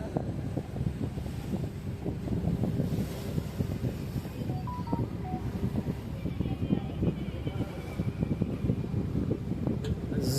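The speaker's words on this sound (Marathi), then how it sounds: "सुसाट स्पीड बोट येते आता बघा, कशी पाण्याला कापत येते बघा" A speedboat cuts through open sea on the crossing from Mandwa port to Mumbai, giving a loud, steady rush of churning water and engine roar heavily buffeted by wind against the microphone throughout.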